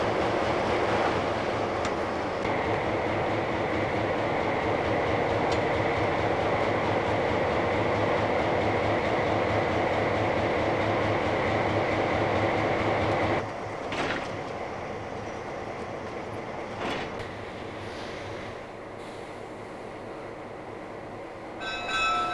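Simpson Timber Railroad locomotives rumble steadily on the rails, with a sustained low engine drone and a higher tonal hum for most of the stretch, then the sound eases and grows quieter, broken by a few sharp metallic clanks.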